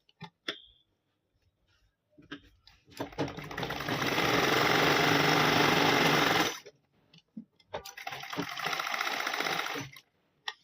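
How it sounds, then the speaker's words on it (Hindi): A sewing machine stitching a line to keep fabric threads from fraying on trousers being made, running in two long close bursts of rapid mechanical whirring, separated by brief pauses with handling clicks and rustles. "इस तरह से लगा देते हैं सिलाई, ताकि ये सिलाई इसलिए लगाते हैं ताकि धागे ना हमारे निकले।"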